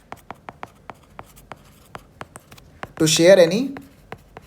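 Marker or chalk strokes tapping and scratching on a board during a lecture, a steady series of short, crisp ticks repeating for about three seconds before a voice speaks over the end.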